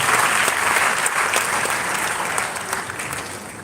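Audience applause at a live event after a speech on ending gender-based violence against women and girls, a loud sustained clapping crowd that eases off slightly toward the end.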